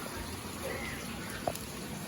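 Steady rain falls on a rooftop shade where potted adenium plants sit under a tower, a dense even hiss with a few scattered drip ticks, moderately soft and without voices.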